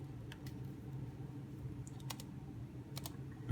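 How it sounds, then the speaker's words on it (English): Someone types on a laptop keyboard with sparse, faint clicks scattered over a low room hum, a few keystrokes grouped in short bursts, and no talking. "Making sure I'm clacking the right keys."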